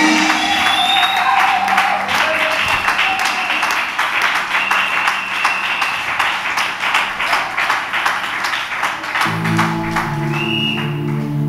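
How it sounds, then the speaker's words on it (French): Congregation at a French-language church service clapping hands in a steady rhythmic beat, many hands together and fairly loud, alongside singing and musical accompaniment. "Acclame, acclame, acclame, acclame, acclame"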